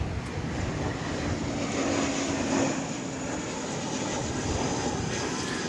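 A passenger airplane arriving at DFW Airport from Los Angeles roars steadily overhead, a broad continuous engine rumble and hiss at close range, with no talk.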